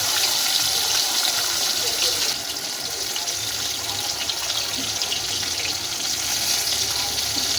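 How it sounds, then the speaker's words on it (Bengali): Hilsa fish pieces shallow-frying in oil, a dense continuous hiss and crackle that dips slightly partway through, close and steady, with no speech. "হালকা করে মাছগুলোকে আমরা ভেজে নেবো"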